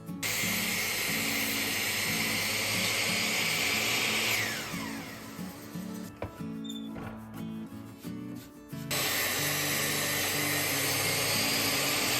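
A chop saw slices through wood stock for wheel chocks, a loud, steady broadband whine that runs, drops away briefly mid-cut, then returns at full strength, with no talking.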